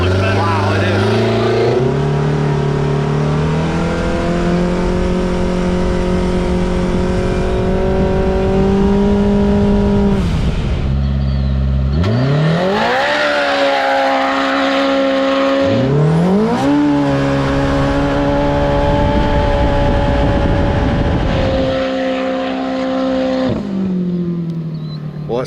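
A Can-Am X3 or Polaris RZR side-by-side UTV engine revving hard, loud and close, with rising pitch sweeps through gear changes and a drop in the middle before it climbs again, while people talk over it.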